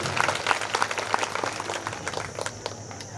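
An audience claps together at a women's group meeting, producing a dense patter of many hands. It is moderately close and sustained for a few seconds with no voices over it.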